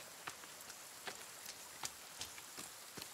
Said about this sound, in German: der Regen ist voll laut